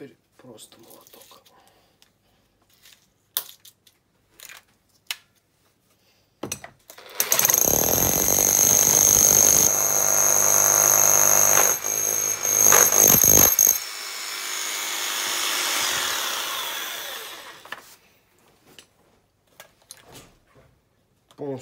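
A Bosch 2895 rotary hammer without a bit runs in hammer-only mode, giving a loud, steady, rattling burst of about six seconds with a trailing rumble after it, framed by handling clicks and a little talk.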